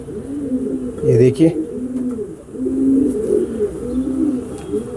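Home-bred racing pigeons, including a Kapus female, coo in repeated low, throaty phrases close by, with someone talking briefly over them.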